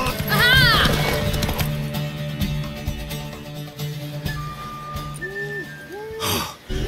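Horse racing at a gallop in The Witcher video game, rapid hoof clip-clops under whinnies and snorts, loud and near, with music tones and voices over it.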